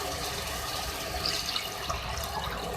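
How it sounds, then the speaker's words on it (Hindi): A glass of water poured into a cooking pot of browned beef for dhaba-style aloo gosht, a brief continuous splashing rush of liquid, close and steady throughout. "मैं इसमें 1 गिलास पानी ऐड कर रही हूँ।"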